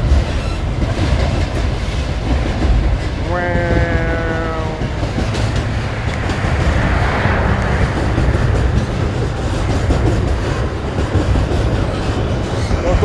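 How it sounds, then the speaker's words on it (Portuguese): A long freight train rolls past close by on the Estrada Real, a loud continuous rumble and rattle of wagons with a brief horn-like tone partway through. "Olha como é que é grande o trem."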